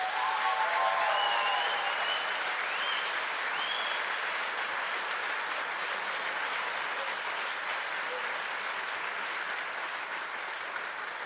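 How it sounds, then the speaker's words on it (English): An audience applauds after a business plan presentation at a student engineering competition finals, a dense, sustained burst of clapping that starts strong and gradually thins out, with faint whistles early on. "So big applause, please."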